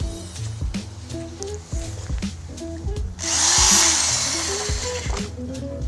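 A power drill driving a screw into a rubber rally mud flap, short whirring bursts with rising pitch that stop and start, then a louder continuous high whine near the end, heard up close.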